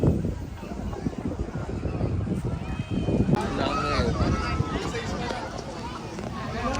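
Strong cold wind buffets the microphone at the Mina Port kite festival, a constant low rumbling roar throughout, with a voice talking over it.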